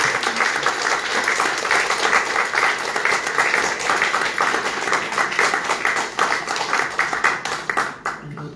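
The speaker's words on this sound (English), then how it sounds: "perhaps we could have a round of applause for" Audience applause at the close of a panel conversation on the arts in Irish society, a dense, steady wash of many hands clapping that holds strong throughout and starts to thin only in the final second.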